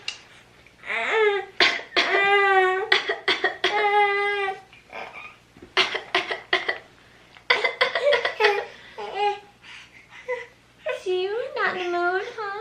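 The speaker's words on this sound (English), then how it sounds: "another thing that she started is fake coughing" A small child makes a series of short, forced coughing sounds close by, mixed with whiny vocal noises and babbling.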